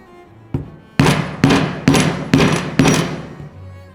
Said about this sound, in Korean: 이번에는 5날짜리로 구멍을 뚫도록 할게요